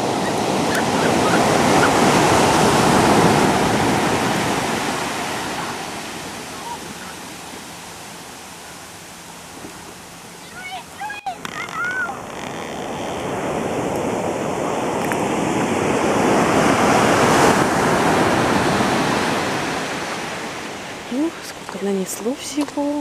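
Ocean waves surge and wash onto a Spanish shore after a storm, a broad continuous roar that swells and recedes in slow cycles, with brief wind buffeting and faint distant bird calls.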